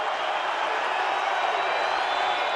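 A basketball arena crowd rises to its feet cheering after a dunk at a South Dakota State at New Mexico men's game, a steady, dense roar of voices from many people, loud and continuous throughout.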